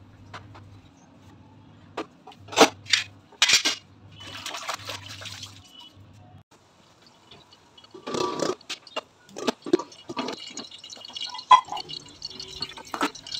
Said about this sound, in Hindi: बर्तन साफ़ करूँगी